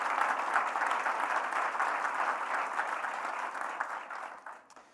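Sustained applause from an audience at a Washington State University business education keynote, honouring the athletic director; a steady dense patter that fades away near the end.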